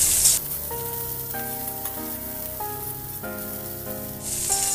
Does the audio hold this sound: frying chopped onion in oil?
yes